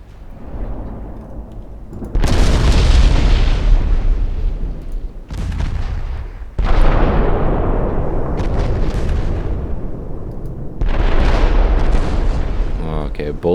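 Heavy naval gunfire and shell explosions in a 1948 Norwegian campaign naval war game, including 9-inch guns: loud rumbling booms in several long overlapping bursts, close and dense, with a voice talking underneath.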